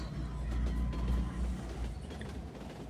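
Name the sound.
train interior rumbling in a video game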